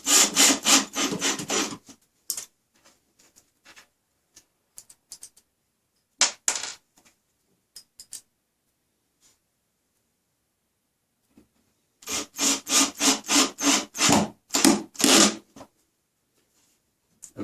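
Screw driven by hand into a Harbor Freight workbench frame, heard as two bursts of rapid rhythmic creaking and grinding turns at the start and again near the end, separated by long quiet with a few small clicks.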